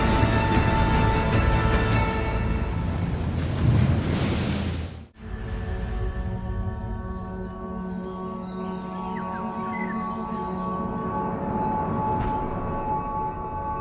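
Ocean waves and wind at sea roar loudly in a steady wash that cuts off abruptly, then a fainter surge returns under a layer of music.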